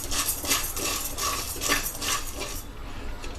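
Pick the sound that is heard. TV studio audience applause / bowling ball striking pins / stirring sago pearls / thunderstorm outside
stirring sago pearls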